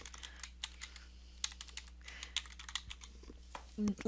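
Text being typed on a computer keyboard, a close run of quick irregular key clicks with short pauses, faint and alone apart from a brief low noise at the end.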